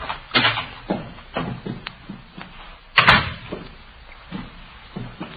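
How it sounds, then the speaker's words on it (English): A door opens in an old radio police drama, heard as a run of muffled wooden thumps and knocks with one louder, sharper bang partway through, all fairly close and with no voices over it. "Door's open."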